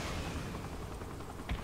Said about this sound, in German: Schüsse und Lenkraketen.